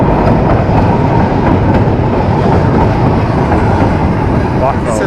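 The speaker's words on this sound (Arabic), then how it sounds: "بص الترام وهو جاي علينا" A tram passes on a street in Alexandria, Egypt, a loud, steady rumble of the rail car with faint clicking of wheels, close by, and someone talking over it.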